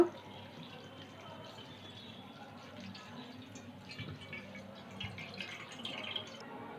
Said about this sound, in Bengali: এটা ছাকনি দিয়ে ছেঁকে নিলাম একটু ঠান্ডা জল দিয়ে দেব